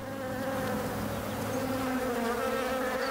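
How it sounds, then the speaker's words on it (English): Bees buzzing steadily and loudly while feeding on flowers, a dense continuous drone of many insects close by with no voices. "What attracted us to have a look at these plants was the terrific noise of bees"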